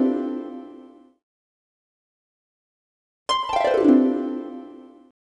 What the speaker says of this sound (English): Congratulations, you found the harp.